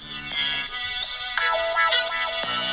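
A phone ringtone plays a bright, tonal electronic melody of quick repeated notes with sharp attacks, clear and fairly loud with no talking over it.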